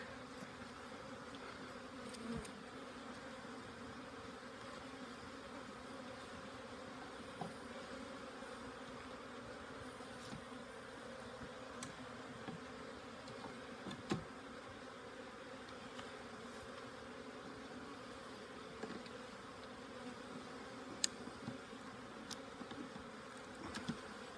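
Honey bees hum and buzz in a steady, fairly faint drone around an open hive during an April inspection, with occasional soft knocks and clicks from the frames and no talking.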